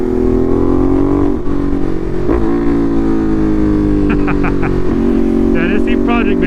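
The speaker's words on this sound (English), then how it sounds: "It's also going to be a point of view of you guys hearing the SC Project exhaust back there." A Ducati Monster motorcycle fitted with an SC Project exhaust is ridden along, its loud, steady engine drone filling the clip and shifting in pitch as it changes speed.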